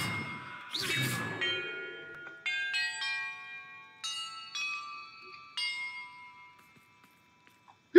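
Bells chime in Hogwarts Legacy, a series of clear, ringing tones struck one after another with long sustained decays, sounding close and moderately loud before fading to near silence, with a brief loud knock at the end.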